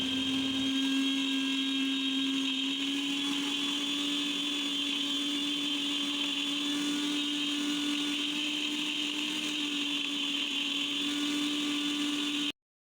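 Garlic and ginger whirring in an electric mixer grinder, a loud steady high-pitched motor drone held for about twelve seconds before cutting off abruptly.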